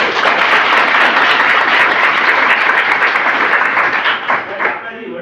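After a lecture on cyber threats and prevention, an audience breaks into loud, sustained applause. Many hands clap in a thick, even wash that holds for several seconds before tapering off near the end.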